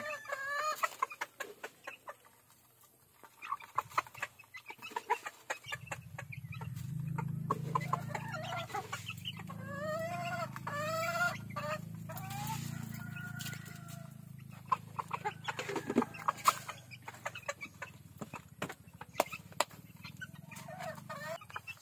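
Backyard chickens cluck and squawk nearby while a rooster crows partway through, over a low steady hum of background noise.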